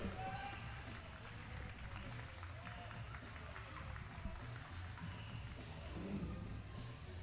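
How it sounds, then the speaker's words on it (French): Steady crowd applause at a youth under-14 final fills the whole stretch, a dense continuous patter of many hands clapping with background crowd noise throughout. "Applaudissements pour lui, mesdames et messieurs."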